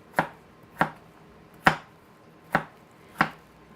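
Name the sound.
knife chopping root vegetables for home fries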